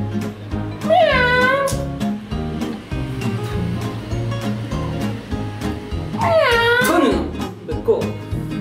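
Cat meowing twice in rising, wavering calls, well separated, over a busy background with people talking and other noise on a film set.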